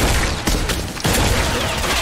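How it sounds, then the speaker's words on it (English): Gunfire in the physics-based shooter game Maximum Action, a dense burst of loud, rapid shots with brief gaps, close and harsh, without talk. "Getting shot at."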